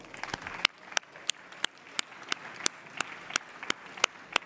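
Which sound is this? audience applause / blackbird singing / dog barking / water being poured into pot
audience applause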